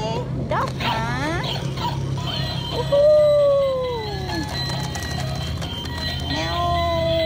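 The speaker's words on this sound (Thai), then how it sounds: "พี่หมามาเล่นด้วยสิด๊อกหมา" A cartoon dog howls in rising and falling wavering tones over a steady bed of background music, with animated sound effects around it.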